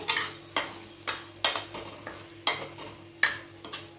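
A spice mixture with milk cream sautés in oil with a low sizzle. A spatula scrapes across the pan in regular strokes, about two per second, each stroke sharp and close.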